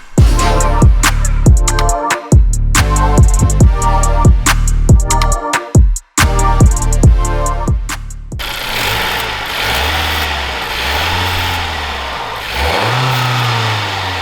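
An 11th-generation Honda Civic fitted with a PRL Stage 1 drop-in intake revs hard several times in quick succession, close and loud, then drops to a steady idle with one more small rev.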